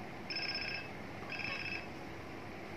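Two bursts of an electronic telephone ring in GTA San Andreas, each about half a second, with a steady background hum between them and no talk.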